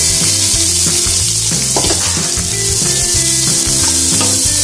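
Sliced onions hitting hot oil for kappa biriyani, a loud, dense, continuous sizzle right up close, steady from start to finish with faint stirring knocks underneath.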